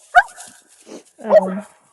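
A brindle pack dog gives a sharp bark, then a longer whining, grumbling vocalization a second later, close and fairly loud, with a person talking nearby.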